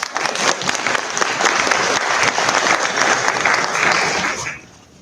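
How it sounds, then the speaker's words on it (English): Conference audience at an HR conclave in Bhubaneswar breaking into loud, sustained applause, a full dense clatter of hands that fades out sharply at the end. "give a big round of applause"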